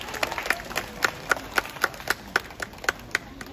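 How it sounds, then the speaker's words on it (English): An audience at a Night Safari show in Singapore claps after an owl's flight, producing a sparse, evenly spaced run of sharp claps at a moderate distance. "how about a big round of applause to Midnight for the fantastic flight"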